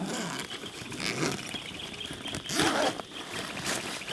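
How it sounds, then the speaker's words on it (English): Zipper being pulled open along the side of a PEKREWS waterproof hard carrying case for a DJI Mini 4 Pro drone, a close, scratchy rasp in several bursts with a louder pull near the end. "To the side right here, you can see we have a zip. Let me open that."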